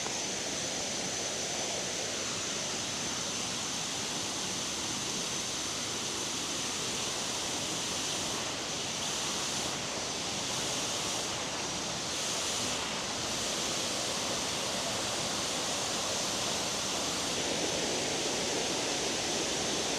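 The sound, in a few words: waterfall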